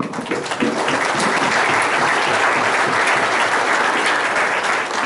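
A crowd at a high school all-sports banquet breaks into steady, dense applause that swells quickly and holds for several seconds, with no talking over it.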